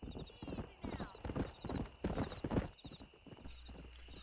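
Horse hooves clip-clop at a gallop in the Western video game Red Dead Redemption, a rapid, steady drumming of hoofbeats throughout, mixed with game music and a brief whinny.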